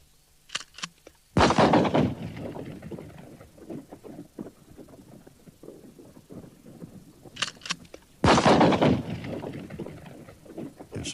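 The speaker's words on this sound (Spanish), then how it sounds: "Para demostrarle la tranquilidad que reina aquí, escuchen este disparo." Two gunshots in the quiet Alaskan wilderness near Yakutat, each a sharp loud crack followed by a long rolling echo that lingers and decays over several seconds, with faint ambient clicks between.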